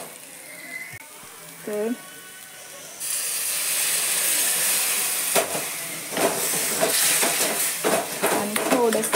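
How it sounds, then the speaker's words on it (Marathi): Tomato masala sizzles and hisses steadily in a pan over a low gas flame, with occasional stirring scrapes and clinks; someone speaks briefly near the start before the frying noise swells. "अजून जरासा बारीक गॅसवरती हे भाजू देऊया त्याचा तो."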